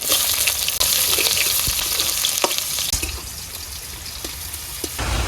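Onions and shrimp frying in oil in a wok, giving a steady, loud sizzle with occasional stirring scrapes and clicks throughout, with no talking.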